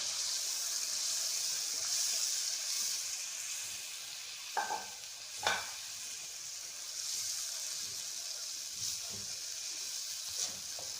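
Pea and yogurt paste stir-frying in a pan for a chicken and peas curry, giving a steady close sizzle throughout with a few brief clinks and scrapes of a spoon against the pan, no talking.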